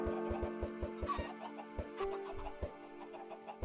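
Blocky chickens in Minecraft cluck in short, repeated bursts close by, with a steady tune playing underneath throughout.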